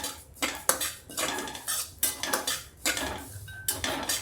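Cumin seeds being lightly heated in a pan for a crushed lemon pickle, with repeated metallic scraping and clinking of a spoon against the pan in irregular bursts, close and fairly loud, no talking.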